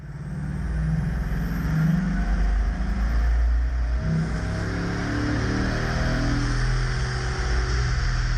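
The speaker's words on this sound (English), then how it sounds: "The employee accelerates up to 200 kilometers an hour." A Bugatti Chiron accelerates hard up to 200 km/h during a production test drive, its engine roar loud, steady and continuous throughout, broadband with a rising drone and road rush, no voices.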